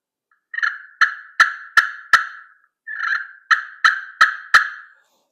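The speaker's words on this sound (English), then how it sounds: "Great sounding pot call." A pot turkey call worked with a striker produces two loud, close sequences, each a raspy purr leading into four or five sharp clucks at an even pace, separated by a short silence.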